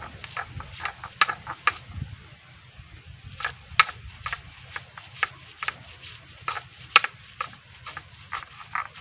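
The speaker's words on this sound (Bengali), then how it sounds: "কাজু পোস্ত কাঁচা লঙ্কাকে একসঙ্গে আমি বেটে নিচ্ছি জল দিয়েই বেটে নেবো" Cashew, poppy seeds and green chilli are ground together with water on a grinding stone, giving a steady run of short rubbing and knocking strokes, close and moderately loud, with no talking.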